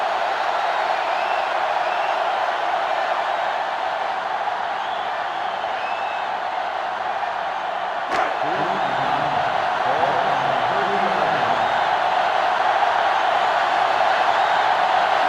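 A huge stadium crowd roaring in the college football game NCAA Football 2005, USC at Tennessee, a continuous dense wash of noise that swells slightly louder later, with a sharp thump partway through and a faint voice underneath.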